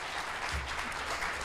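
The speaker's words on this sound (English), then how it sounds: "Round of applause, please." A crowd applauds at a Shark Pitch 2025 charity event, with brief, even clapping throughout and no speech.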